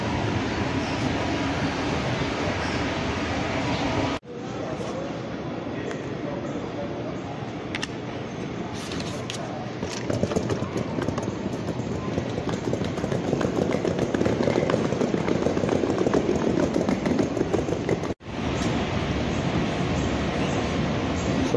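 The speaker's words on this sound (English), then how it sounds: "So I think that's the train, because this is the last stop on the line" A metro train arriving at the last stop on the line rumbles loudly and steadily, its roar swelling in the middle stretch, with faint, indistinct voices mixed into the noise.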